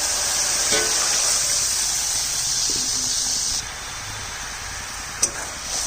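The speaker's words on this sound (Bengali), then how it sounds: "এখন জল দিয়ে দিচ্ছি।" Water poured into a hot pan of fried mustard and poppy seed paste, a loud continuous sizzling hiss that drops suddenly partway through, with a sharp clink of a utensil near the end.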